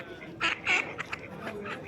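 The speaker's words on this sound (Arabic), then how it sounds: "البط ماشي يتفسح معانا." Ducks walking in a Dutch town centre quack a few times in short, close, nasal calls over a low background murmur.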